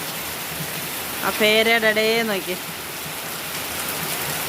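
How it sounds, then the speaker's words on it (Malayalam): Heavy rain pours steadily outdoors in a village setting, a dense, even wash of sound throughout, while a person briefly speaks over it near the middle. "പിന്നെ വലിയ മഴയാ"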